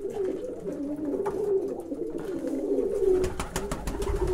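A young pigeon coos close by in low, rolling repeated calls across the whole stretch, with faint rustling and a few light knocks toward the end and no talking.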